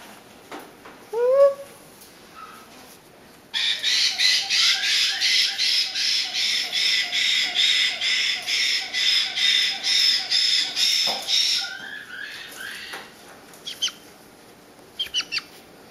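White-bellied caique parrot chicks, about seven to eight weeks old, give loud, rapid rhythmic squawks in a long close burst, with a few shorter calls before and after.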